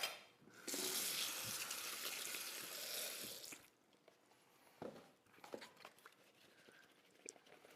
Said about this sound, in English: I'm just going to pour them through, give them a quick rinse